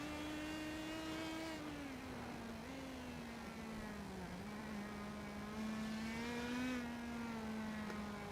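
An Indy Pro 2000 race car engine at Interlagos in the iRacing sim game drones with a steady, high tonal whine that dips and climbs again through gear changes and throttle shifts, moderately loud and uninterrupted by speech.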